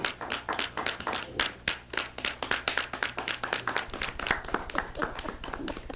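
Audience applause at a Toastmasters club meeting, a small group clapping in a quick, uneven patter of distinct hand claps, moderately loud and continuous with a faint background hum.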